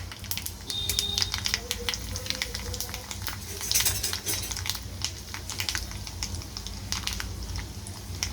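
Dried red chillies frying in hot oil for restaurant-style curd rice, a steady soft sizzle and crackle with occasional pops, continuing throughout.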